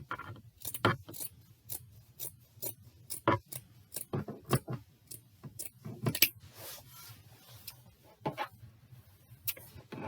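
Scissors cutting through terry cloth close up: a steady run of crisp snipping clicks and crunches in an uneven rhythm, with no one talking.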